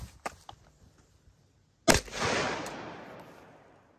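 A 16-inch Galil Ace Gen 2 rifle firing 7.62x39 FMJ rounds sends out one sharp, loud report heard from a distance, followed by a long rolling echo. A few faint clicks come before it.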